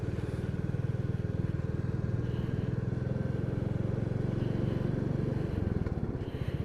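A motorbike engine hums steadily at moderate distance, a continuous low throbbing drone with rapid firing pulses, holding level throughout without people talking.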